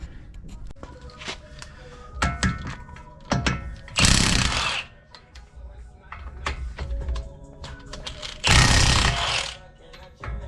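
A power tool spinning off the bolts holding a spacer on a G35 coupe, with short loud bursts of whirring and rattling between clicks and clanks of hand work nearby.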